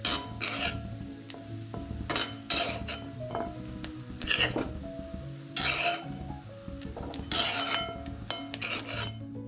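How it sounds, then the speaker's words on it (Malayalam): Roasted grated coconut for Kerala rava ladoo scraped and tipped from a pan into a vessel, with repeated metallic spoon scrapes and clinks in short bursts, fairly close and moderately loud, no talking. "ഇനി ഇതൊരു പാത്രത്തിലേക്ക് മാറ്റി കൊടുക്കാം."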